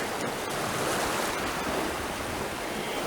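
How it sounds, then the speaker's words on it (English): Sea waves wash against rocky coastal cliffs at Fryers Well Point, a continuous, full-bodied roar of churning surf and water with some wind buffeting, close and steady. "so you can enjoy the sounds of the water, which will be going around you right now, and also just the sounds of the sea itself in general"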